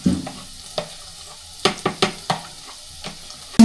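Onion fries in a pan for black sauce pasta, a quiet hiss punctuated by a series of sharp metal spatula scrapes and taps against the pan, close and crisp.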